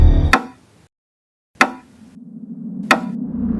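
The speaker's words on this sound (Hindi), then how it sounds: "उस दरवाजे को खटखटाया तो सही" Someone knocks on a door in a Crime Patrol crime drama: three single sharp raps spaced well apart, loud and close, separated by near silence and a low hum.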